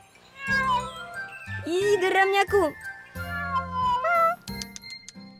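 A cat meows repeatedly in drawn-out, whiny cries, close by, with a person speaking briefly between the meows.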